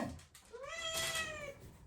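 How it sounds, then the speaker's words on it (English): A house cat gives one drawn-out, rising-then-falling meow, close and clear over a quiet kitchen background. "Got a cat attacking my leg."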